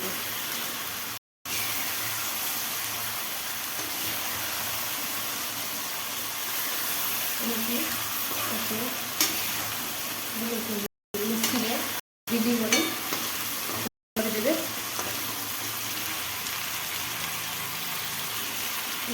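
Fish sizzles and fries steadily in a hot pan, a continuous close crackle that carries through the whole stretch, with brief gaps and a few louder stirring bursts; a voice speaks briefly over it.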